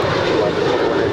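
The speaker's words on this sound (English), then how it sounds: "United 2146 off to Denver. It's a 9-year-old 737-900ER." A nine-year-old Boeing 737-900ER jet airliner taking off at LAX, its engines producing a steady, loud, broadband roar that holds evenly throughout.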